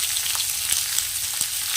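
Onions frying in a pan for a chicken dish, a steady close sizzle with occasional soft stirring clicks and scrapes, no voices.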